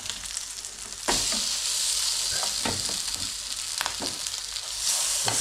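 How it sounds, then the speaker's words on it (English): Spicy corned beef and potato fritters frying in a pan, a steady close sizzle with occasional pops and faint clinks from turning them. "So I'm going to turn these fritters over."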